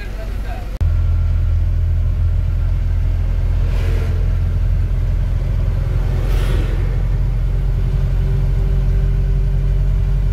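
A car drives onto the Jamuna bridge, its engine producing a loud, steady low rumble from inside the vehicle, with a couple of brief whooshes of passing traffic partway through.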